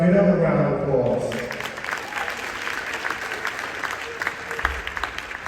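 Audience applause at the 2023 State of the City address in East Orange fills the room after a short stretch of speech, then holds as a steady, dense wash of clapping to the end.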